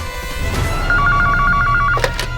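A telephone bell rings in a steady electronic trill for about a second, over a low background hum, followed by a brief knock.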